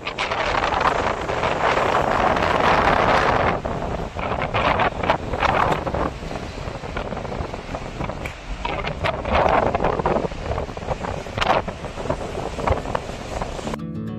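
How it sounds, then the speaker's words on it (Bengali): Strong wind in the high-altitude Spiti Valley buffets the microphone in loud, continuous roaring gusts that swell and ease over about fourteen seconds, with no other sound standing out. "আপনাদেরকে একটু দেখাই বাইরে কি জোরে হাওয়াটা বইছে।"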